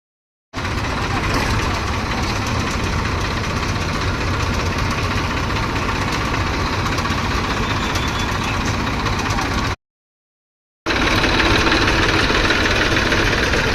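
A tractor's diesel engine idles loudly and steadily nearby at a petrol pump with a rough, knocking rumble, cutting out briefly before resuming.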